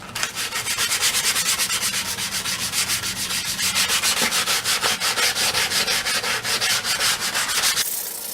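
Hand sanding a Troy Bilt mower deck with 150 grit sandpaper: steady, loud, rhythmic back-and-forth rasping strokes, close up and continuous, stopping abruptly near the end.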